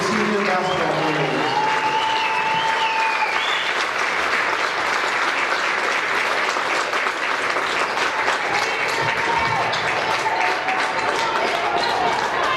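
Sustained audience applause and cheering fill a high school gym during a girls' varsity basketball senior night, steady and loud throughout with crowd noise and faint voices mixed in.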